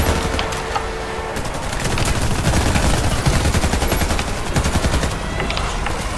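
Rapid automatic gunfire from the first-person shooter Warface, a loud continuous stream of close shots with dense rattling bursts that barely pause across the whole stretch.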